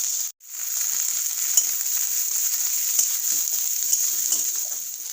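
Chopped spices fry in hot oil in a karai while cooking a fish bhapa dish: a steady, bright sizzle after a brief cut at the start, with occasional soft clinks of stirring.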